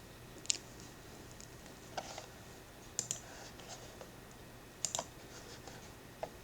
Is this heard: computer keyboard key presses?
yes